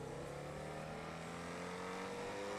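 A BMW engine in the FiveM video game hums and revs steadily with a rising tone throughout, a continuous, moderately quiet drone with no speech over it.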